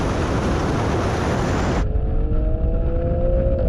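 Alfa Romeo Stelvio QV accelerating hard off the line in a drag race against a BMW M4 and Audi RS6, a loud dense engine roar that drops abruptly to a lower tone partway through.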